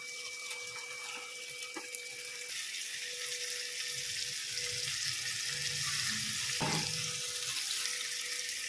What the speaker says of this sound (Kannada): ಈಗ ಇದಕ್ಕೆ ನಾವು ಮಿಕ್ಸ್ ಮಾಡಿರೋಂಥ ಚಿಕನ್ನ ಆ್ಯಡ್ ಮಾಡೋಣ